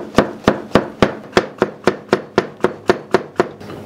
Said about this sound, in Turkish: Kapya biberleri de aynı şekilde piyazlık doğrayacağız.